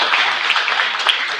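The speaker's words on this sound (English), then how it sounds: "you should clap for that" A brief burst of clapping from an audience at a community monthly meeting, a short, dense patter of hands lasting barely more than a second.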